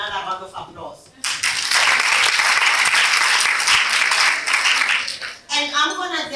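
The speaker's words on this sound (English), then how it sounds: "that's why we deserve another round of applause" Applause at a women's high coffee event in Randburg, South Africa: a dense, loud burst of clapping from the audience lasting several seconds, with talking before and after it.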